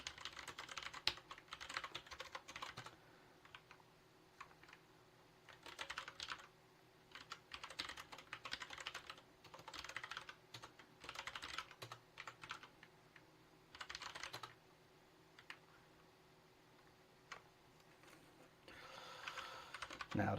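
Quiet bursts of typing on a computer keyboard while coding, clusters of rapid key clicks separated by short pauses, close and soft throughout.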